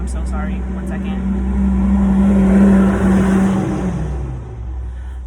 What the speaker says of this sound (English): Here comes a dumpster truck again.